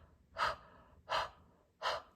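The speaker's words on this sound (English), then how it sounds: "literally like huff on it" Three short, breathy huffs of warm breath onto a rubber stamp to remoisten red and green marker ink, evenly spaced about three-quarters of a second apart, soft and close with quiet between them.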